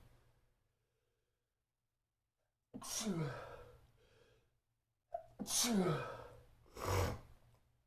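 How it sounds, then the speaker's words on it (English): Three sharp sneezes in a row, each a sudden burst with a breathy intake before it, close to the mic, separated by short quiet pauses. "didn't really want to sneeze on camera there"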